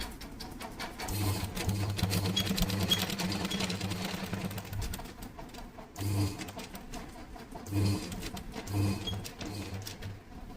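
Electric sewing machine stitching the slit edges of a chudidar dress top, a steady mid-level whirring run for several seconds, then short separate bursts of stitching with pauses between.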